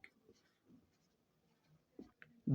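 Pen writing on paper during a Bangladeshi HSC accounting lesson on a bank reconciliation statement, with faint sparse scratching strokes and short bursts separated by quiet gaps, close but soft.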